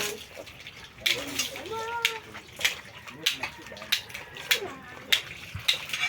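Water splashing as a child is bathed at home, intermittent splashes and pours recurring every half second or so, fairly faint, mixed with a voice and adult talk.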